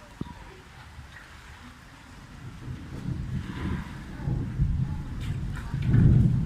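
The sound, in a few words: rain with thunder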